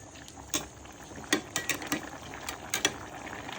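Prawn curry boiling with bottle gourd just added makes scattered bubbling pops and light clicks of a simmering pot, fairly quiet and irregular, with no voices.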